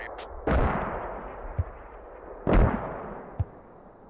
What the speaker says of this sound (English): I think the mortars were a little short there